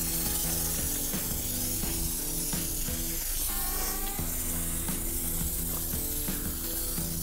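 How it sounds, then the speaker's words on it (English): Hand-pumping a foam pump sprayer before washing a 1997 Mustang: steady hiss and sputtering spray with ratcheting mechanical clicks throughout, close and continuous, no talking. "It is a pump sprayer"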